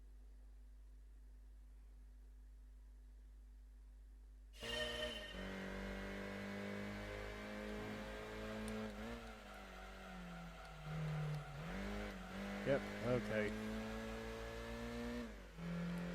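Car engine in Gran Turismo 2 starts after a few seconds of near silence, then revs and races with rising and falling pitch through gear changes, loud and up close, with a few brief spoken words.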